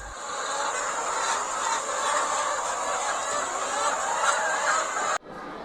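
Laying hens at a village poultry farm in Tanjung Penandingan fill the air with a dense, steady chorus of clucking and squawking from many birds. The sound cuts off abruptly near the end.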